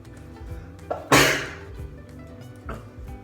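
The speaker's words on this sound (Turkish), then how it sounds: "Kıl kaçtı burnuma ya. Öf. Hapşırttı beni." A single sharp, loud human sneeze after a hair got into the nose, preceded by a short inhale and followed by quieter breathing.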